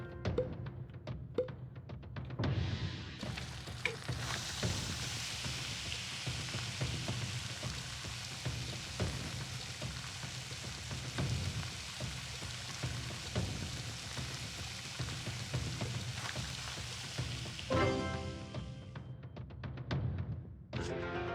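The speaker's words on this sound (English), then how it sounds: "Fry the fish in oil." Fish frying in oil in the Dave the Diver cooking game, a loud, dense, continuous hiss of sizzling that swells in, holds steady for most of the stretch, then cuts back to quieter game sounds.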